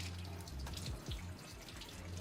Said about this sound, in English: All I do is just put it under the water, let it run for a bit.